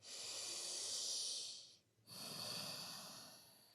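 Slow, deep breathing in a yoga standing forward fold: a long airy inhale, a brief pause, then an equally long exhale, close to the microphone and soft, with no talking.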